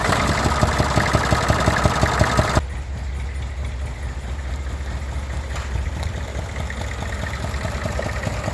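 A 1962 IMT 533 tractor engine idles with a steady, knocking diesel rumble, loud for the first few seconds and then quieter and even, with no voices.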